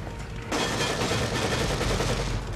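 Gunfire in The Evil Within, a loud burst of shots that starts abruptly and keeps up as a dense rattling volley for about two seconds.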